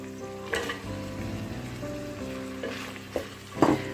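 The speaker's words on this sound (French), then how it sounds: "je vais faire revenir mon oignon jusqu'à ce qu'il prenne une couleur dorée" Chopped onion and carrots sizzle steadily in a pan close by, a continuous frying hiss broken by a few brief clinks and stirring scrapes.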